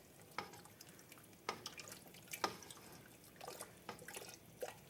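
Winter soup with celery and carrots being stirred in a pot, giving soft, faint liquid sloshes and drips in irregular bursts, quiet and close with no talking.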